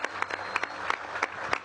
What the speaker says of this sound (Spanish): Un aplauso a la Fuerza Armada Nacional Bolivariana.